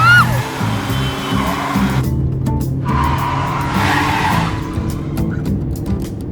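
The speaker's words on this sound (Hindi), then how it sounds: "इतनी तेज गाड़ी कौन चलाता है?" A speeding car's tyres screech in long, loud squeals over a steady engine roar, the skid sliding up and down in pitch as the car swerves, heard from nearby.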